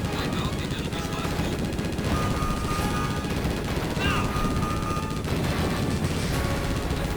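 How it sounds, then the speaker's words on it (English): In the 1996 Konami arcade rail shooter Operation Thunder Hurricane, dense machine-gun fire and explosions rattle continuously during a battle against an attack helicopter. Game effects and blasts are layered together and stay loud throughout. "Now we got this giant attack chopper"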